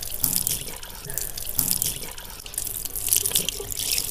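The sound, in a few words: water running from a tap during ablution (wudu)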